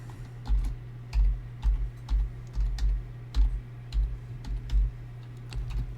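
Computer keyboard typing while entering text in LokProgrammer software, a steady run of close, crisp key clicks in an irregular rhythm over a low constant hum, with no talking.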